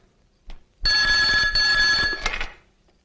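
A telephone bell rings in one sustained, loud electronic trill after a brief faint knock, then cuts off and fades; no one speaks over it.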